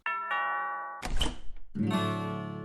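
A notification bell sound effect rings out as bright, tonal chimes: two sustained tones, a brief clattering burst, then a fuller ringing chime, loud and alone.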